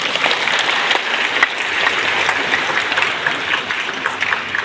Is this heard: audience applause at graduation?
yes